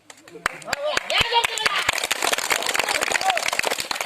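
People clap at a village Sambalpuri magic show, sharp claps in a quick, fairly regular rhythm, close and loud, mixed with voices and chatter throughout.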